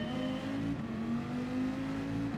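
A race car engine drones steadily at the race start in Gran Turismo 7, a continuous mid-pitched motor hum with slight pitch shifts as it accelerates, with no voices.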